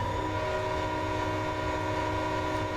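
The horn of an EMD SD40T-2 locomotive in Train Simulator 2015 blows at a whistle board, one steady, sustained tone held throughout over a low rail rumble.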